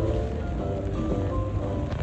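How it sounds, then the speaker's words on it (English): Steady rain falls around the Singapore street circuit during an F1 weekend, a dense, even hiss that holds constant throughout with no voices. "it's still raining"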